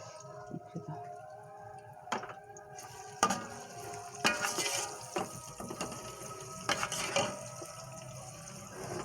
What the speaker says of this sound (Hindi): लहसुन के पेस्ट को 2 से 3 मिनट जो है मैं इसमें फ्राई करूँगी